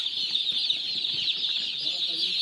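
Tiny broiler chicks, just days old, fill a poultry shed with a dense, continuous chorus of high-pitched cheeping, steady and close throughout, with soft low rustling beneath.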